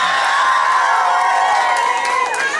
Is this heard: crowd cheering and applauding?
yes